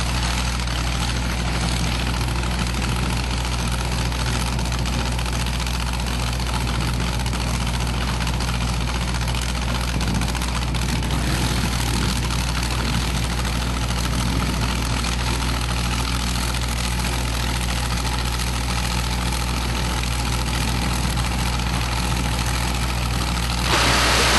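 A drag racing hot rod engine idles before a pass at an outlaw drag racing event, a loud, steady, rumbling drone with a deep low-end throb that holds unchanged the whole time, with no talking.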